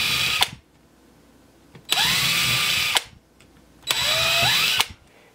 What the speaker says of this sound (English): Then you're gonna wanna drill out three holes on each side of your hinges.